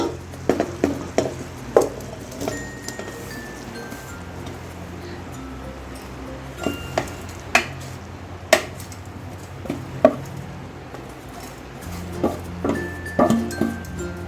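Peanut katli mixture is stirred in a pan on the stove, with soft scraping and a soft background sizzle punctuated by irregular metallic clinks of the spoon against the pan, close and moderately quiet.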